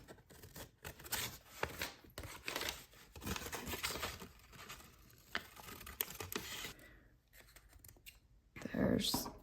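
Scissors snip through paper while cutting out a blue shape from a sketchbook page, a run of close, crisp cuts and crinkles with brief pauses, under soft intermittent talk.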